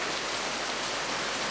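A sudden downpour of rain at a village birthday celebration in Yunnan, steady hissing rainfall and drops on surfaces, fairly faint and continuous with no voices.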